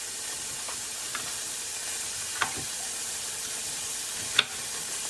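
Flank steak searing in a cast iron pan gives a steady, soft sizzling hiss, with a few faint pops and clicks scattered through it and no voices.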